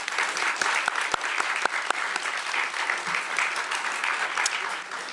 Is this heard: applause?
yes